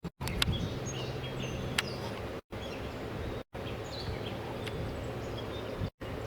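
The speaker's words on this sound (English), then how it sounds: "I'm hearing a catbird right now." Gray catbird singing outdoors, its varied chirps and short phrases faint and scattered over steady low background rumble across a few seconds, broken by brief gaps.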